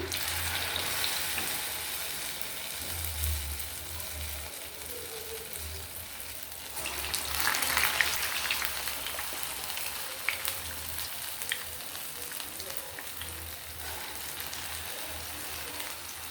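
Urad dal vadas (minapa garelu) deep-frying in hot oil give a steady, crackling sizzle that runs continuously at moderate level, swelling slightly midway, with no talking.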